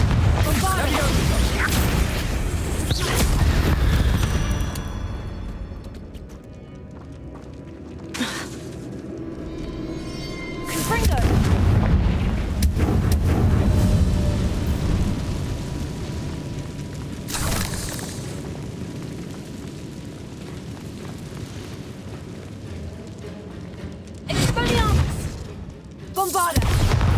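Spell blasts from Confringo and Bombarda in the Hogwarts Legacy video game: several deep booming explosions with crackling bursts over a rumbling game soundtrack, loud and recurring through the scene, with a few short stretches of character speech.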